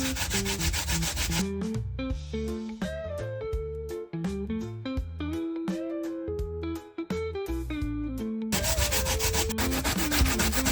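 A sweet potato is grated by hand for Jamaican sweet potato pudding, making a steady rasping scrape at the start and end, with tuneful music filling the middle stretch.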